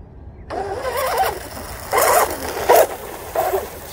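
A 1/8 scale RC drag boat races off across the water in several short, sharp bursts, each a loud, high-revving engine scream that rises and quickly drops away.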